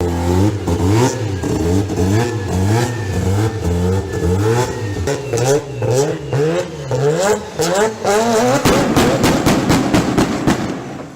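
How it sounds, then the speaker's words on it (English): A Mazda RX-7 rotary engine revs repeatedly in sharp rising and falling bursts, loud and close, ending in a rapid stuttering rev. "this is why the Mazda RX-7 is the best car"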